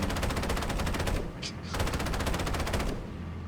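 Rapid, continuous machine gun fire from Halo CE, loud and rhythmic, with one short break in the middle before the burst resumes.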